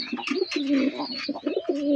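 Lakkha fantail pigeons coo in a pigeon loft, giving close, repeated throaty coos in quick succession with a few faint chirps mixed in.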